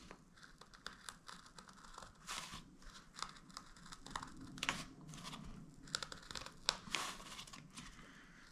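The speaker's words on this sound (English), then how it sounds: "But if you can hear it, I am actually cutting the foam" Foam insert for an RC crawler tire being cut, giving soft scraping and tearing crinkles in irregular bursts, close and fairly quiet, with no talking.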